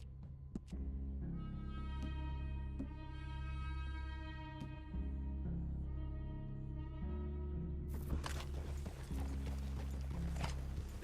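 Horse hooves clip-clop softly in Red Dead Redemption 2, faint hoofbeats set against a sustained tonal game soundtrack, with a brighter, noisier stretch of ambience near the end.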